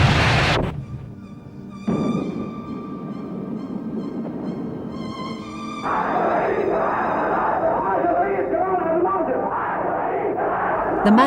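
A large crowd of masses shouting calls for jihad, holy war against the Zionists, loud massed voices in rhythmic bursts that swell into a sustained roar of chanting.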